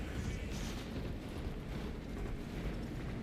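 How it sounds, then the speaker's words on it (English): Grenade blast in Space Marine 2 rendered as a dense, low rumbling roar that fills the whole span at moderate level, with no distinct sharp onset and no voices over it. "Maybe I blew myself up with the grenade."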